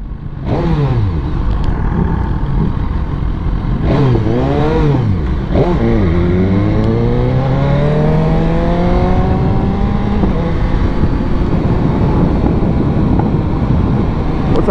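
An Aprilia RS660 motorcycle rides along a street, its engine loud and close as it revs up through the gears in rising sweeps, with heavy wind noise throughout.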